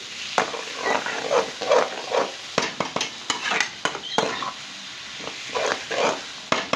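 Masala fish curry with fenugreek is stirred in a pan, close irregular scrapes and clacks of a spoon over a soft sizzle, coming in uneven bursts with brief pauses, no voices.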